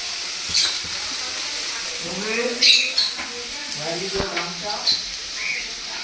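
Water spinach (kalmi shak) frying in a pan, a soft steady sizzle with several bursts of crackling as it is stirred, while a voice talks intermittently in the kitchen.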